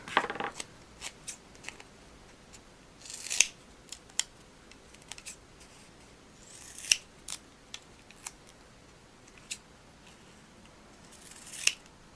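Scissors cut long paper strips, a string of crisp close snips at an irregular rhythm with a few longer slicing strokes, quiet and with no talking.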